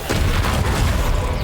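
A Confringo spell blast in Hogwarts Legacy, a dense, booming burst of explosive noise that fills the short moment loudly and up close, with a voice present alongside it.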